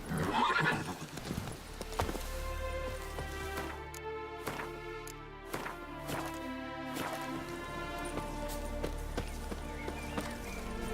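Geralt's horse Roach in The Witcher 3 gallops with steady, rhythmic hoof clip-clops and snorts, opening with a loud neigh close by over a low rumbling background.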